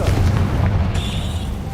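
A fire-blasting spell explodes in Hogwarts Legacy, a short deep boom that rumbles and fades, followed by a thin high ring, loud and close.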